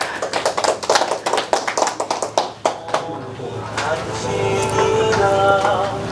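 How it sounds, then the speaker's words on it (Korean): An audience at an indoor Korean history lecture on the Gyeonggi righteous armies claps for a reader, with brisk applause for about three seconds before a voice speaks over the room. "우리 읽어주신 분한테 박수 한번 주고."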